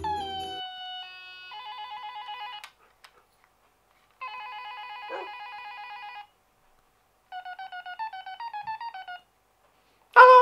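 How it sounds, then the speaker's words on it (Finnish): Telephone dialing in the Minecraft video game: a run of synthetic beeping tones in stepped pitches, played in three separate bursts with short silences between them, ending in a sharp loud click. "Ei pitää soittaa uudestaan Laurille."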